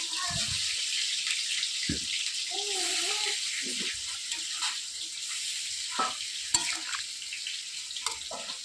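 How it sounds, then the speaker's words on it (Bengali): Water is poured into a drumstick curry frying in a pan, giving a hissing, bubbling sizzle with splashes and a few clinks, heard close and moderately quiet, with brief voice-like tones. "পরিমাণ মতো জল দিয়ে দিচ্ছি।"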